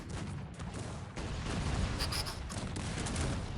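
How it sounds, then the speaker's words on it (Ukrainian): Booming cannon and gunfire from a Cossacks 3 battle, a dense, continuous rumble of shots and blasts with no gaps, loud and steady throughout. "Але тут гармати так настрілюють."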